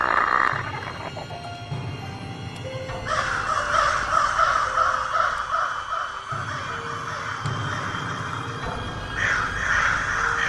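Sound effect for a horror audio drama of Poe's The Raven: a raven caws loudly and repeatedly in long, rasping calls, alone and up close.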